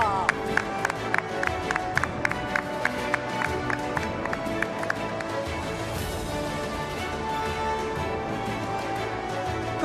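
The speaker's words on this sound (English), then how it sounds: "huge round of applause for Mr." An audience at a global summit applauds an award winner, flutist Rakesh Chaurasia, with clapping and crowd noise under loud stage music carrying a rhythmic melodic line, the claps fairly sharp and continuous throughout.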